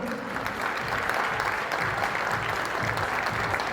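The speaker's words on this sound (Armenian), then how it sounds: "բարձր ծափարություններ հնչեցնում ենք ծնողների պատվին" Loud, dense applause from a crowd honouring parents at a celebration, continuous clapping throughout with no talking over it.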